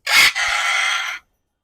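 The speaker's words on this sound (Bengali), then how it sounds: "দেখতে পাখিটা পাচ্ছেন একটা কঙ্গো আফ্রিকান গ্রে প্যারট" A Congo African grey parrot gives a loud, harsh call with a sharp opening burst followed by a sustained rasping note, alone and close, ending in silence.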